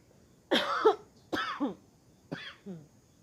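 Three harsh coughs in close succession, each short and chesty, the last one softer, with quiet room tone in between.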